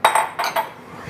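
Onion going into hot oil in a deep pan for butternut squash risotto, heard as a few quick clattering knocks and scrapes of utensil against metal, close and brief, with no talking.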